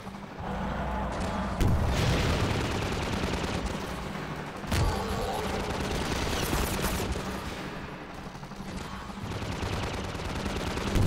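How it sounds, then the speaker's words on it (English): Dense bursts of gunfire and booming explosions from a video game shooter, rapid automatic fire layered with heavy blasts, continuous and loud throughout. "Stop shooting my fellas!"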